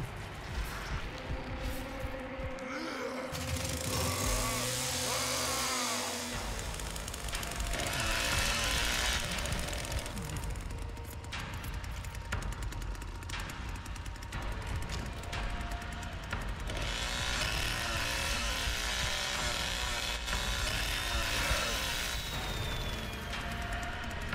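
A chainsaw being primed in the Texas Chain Saw Massacre video game, a loud, sustained rattling engine buzz that persists throughout amid thumps and other game noise.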